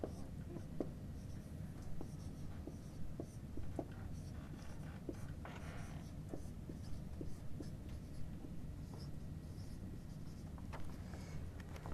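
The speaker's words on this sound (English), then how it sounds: "Let me write it down here." Pen or marker writing a website address on a board in a lecture hall, faint repeated scratchy strokes against steady room murmur and low background noise.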